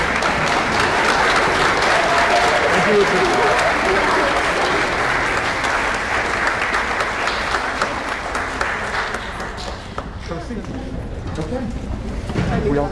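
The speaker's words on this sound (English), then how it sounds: "Stand up to acknowledge the applause for everybody." Audience applause fills the hall after a high school orchestra's spring concert piece, steady and dense clapping throughout, with a voice speaking briefly over it near the end.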